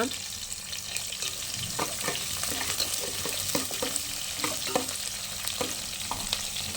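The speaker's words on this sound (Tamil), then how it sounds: "வெங்காயம் கொஞ்சம் நல்லா வணங்கினதுக்கப்புறம் பூண்டும் தக்காளியும் சேர்த்துக்கோங்க" Chopped onions sizzling in a pan with garlic and tomato going in, a continuous bright frying hiss with frequent stirring scrapes and clicks, up close and without voices.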